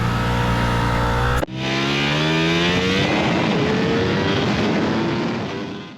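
Ducati V4S motorcycle on a race track, engine loud and continuous: a high rev drops sharply at a gear change, then the engine climbs again and roars steadily at speed, close and alone without talk.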